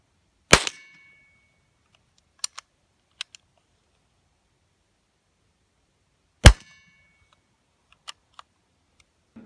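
Winchester Model 1904 .22 rifle fired outdoors: two sharp, loud cracks about six seconds apart, each followed by faint metallic clicks of the action, with near silence between.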